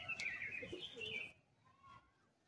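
Pigeons at a West Bengal breeder's loft give brief chirps and soft calls close by, followed by a faint lone call after a quieter pause.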